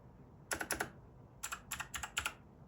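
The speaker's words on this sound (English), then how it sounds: "As you can see, I'm typing the R key, and it's registering" Keys on a brand-new optical computer keyboard being typed in two quick bursts, crisp close clicks, three strokes then five, in a quiet room.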